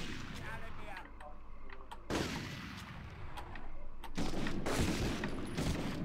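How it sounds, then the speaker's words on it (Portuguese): Gunfire from Medal of Honor on PS1, a dense, continuous clatter of bursts and blasts that swells louder midway, with someone talking over the shooting throughout. "Chubby está a disparar bem"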